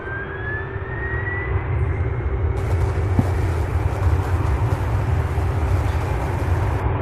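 An Atlas Air Boeing 747 taxis at Louisville International Airport, its jet engines giving a steady, loud drone and whine that holds throughout with no voices.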